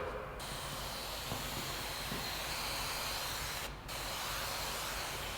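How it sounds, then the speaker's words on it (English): Pump sprayer misting cleaner onto a street sweeper: a steady, close spraying hiss running almost the whole time, broken by two brief pauses. "Doesn't take much of this, you just mist it on there, let it soak."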